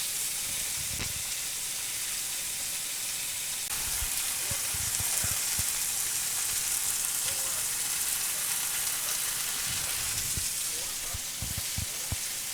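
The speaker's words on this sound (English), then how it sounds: "So we'll let this sear for 2 to 3 minutes and get it well browned on all sides." Meat searing in a hot pan for barbacoa makes a steady, hissing sizzle throughout, with occasional low thumps and clatters from moving the pieces, fairly close and without any talk.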